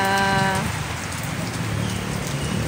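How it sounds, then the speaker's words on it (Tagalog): Steady rain patters on a surface as a typhoon approaches, a dense, continuous hiss of drops at close range with no voices. "Mga patak-patak na yung ulan natin."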